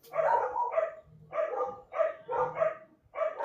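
Dogs barking on a street as people walk past, a run of sharp, repeated barks in quick bursts with short gaps, moderately close, with no talk.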